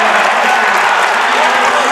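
A high school basketball crowd roars after a dunk in a Portland High varsity game against South Portland, loud and steady cheering filling the gym throughout.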